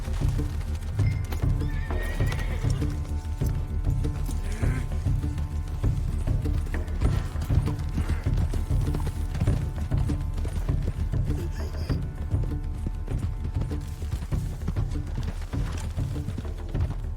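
Horse hooves clip-clop steadily with neighs and whinnies in Red Dead Redemption 2, a rhythmic trotting gait over a low rumbling in-game ambience, loud and continuous with no talk.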